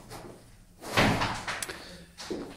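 A sauna door in a house swings and closes with a solid thud, followed by a few softer knocks and rattles at close range, with quiet talk around it.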